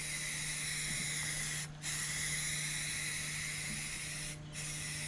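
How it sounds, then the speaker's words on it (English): Rattle can primer spraying onto a VW Beetle's body filler, a loud continuous aerosol hiss with two brief breaks where the nozzle is released, over a low steady hum. "I don't like the way this is spraying."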